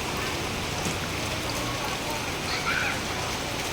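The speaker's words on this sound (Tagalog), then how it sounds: "Ang lakas ang ulan." Heavy rain pours steadily outside a bakery during a thunderstorm, a dense, even hiss of drops hitting surfaces that continues without a break.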